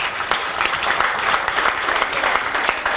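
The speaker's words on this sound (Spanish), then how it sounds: "un aplauso para nuestras panelistas nuevamente" An audience at a school-coexistence panel applauding the panelists, a dense, even burst of many hands clapping, fairly loud and sustained across the room.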